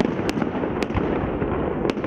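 A celebratory fireworks salute bursts over the city of Tolyatti at night, with crackling explosions and several sharp bangs sounding at a moderate distance.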